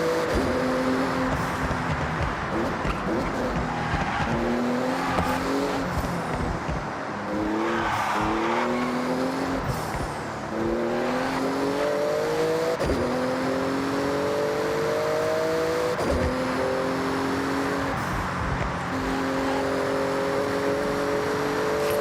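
A Porsche racing car in Forza Horizon 6 roaring loudly as it accelerates through repeated rising gear pulls, with tire squeals and skids mixed into the continuous engine howl.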